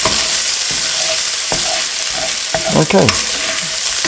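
Onions fry in a pan with steady close sizzling, while a spoon or spatula stirs and scrapes them in several quick bursts near the end; a brief spoken word comes at the start.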